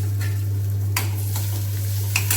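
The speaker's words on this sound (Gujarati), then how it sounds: "ટામેટા એડ કરી દઈશું અંદર।" Tomatoes stirred into sizzling masala in a pan for a dhaba-style moong masala, a steady close frying hiss with a few soft stirring scrapes over a constant low hum.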